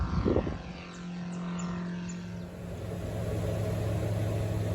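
An ICP Savannah S light aircraft with a 100 horsepower engine drones steadily in flight, a loud, continuous propeller hum with a brief louder burst at the start.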